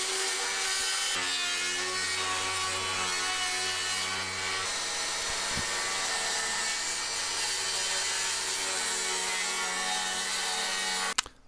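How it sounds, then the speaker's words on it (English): Circular saw plunge cutting through wooden planks for a chicken coop door opening, with a loud, sustained, close whine and grind that cuts off abruptly at the end. "now we're going to cut out the planks. plunge cutting"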